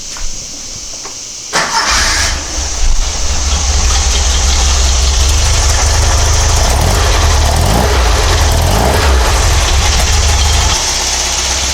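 A car engine fitted with Dellorto DRLA carburetors cranks after a brief pause, catches and settles into a loud, steady idle running on all four cylinders, close up with no talking.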